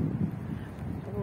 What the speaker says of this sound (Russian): наверное, слышите такой ветер.